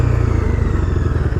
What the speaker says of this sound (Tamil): நான் பின்னாடி பிரேக் அடிக்கிறேன்.